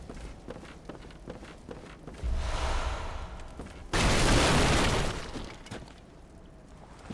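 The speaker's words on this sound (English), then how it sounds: "It's just a cannon." Cannon fire in the video game Bloodborne: two heavy bursts of noise, the second louder and longer, breaking through quieter scuffling game sounds.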